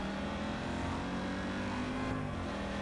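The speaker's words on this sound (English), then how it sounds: "Ooh, this car sounds nice." A car engine runs and revs in the action game Just Cause 3, a steady dense roar for a few seconds with no talking.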